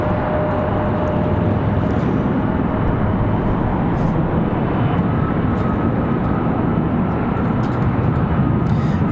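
A Southwest airliner from Houston flies near Raleigh Durham International airport, giving a loud, steady roar of engine noise that holds constant throughout without talk.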